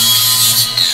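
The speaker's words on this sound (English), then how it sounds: "we're going to take our flat disc and we're just going to grind the edges" An angle grinder runs against the edge of a flat metal disc for a homebrew kettle build, a loud, close, continuous high whine with a steady low hum beneath it.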